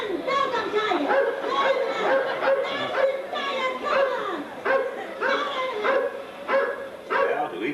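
A dog barks repeatedly and fairly loudly in the animatronic GE Carousel of Progress show at Walt Disney World, recorded in 1981, mixed with voices talking throughout.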